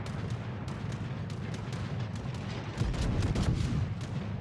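Naval gunfire in World of Warships, a dense run of booming salvos and rumbling blasts layered over steady low battle noise, growing heavier near the end.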